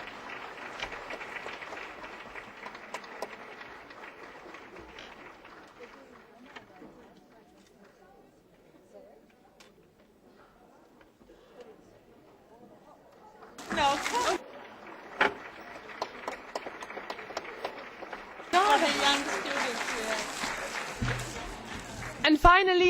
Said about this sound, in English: So a big round of applause for Francesca.